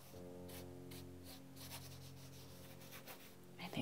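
A paintbrush scrubs acrylic paint onto canvas in faint, close, repeated strokes, each a soft brushy swish over a quiet steady hum.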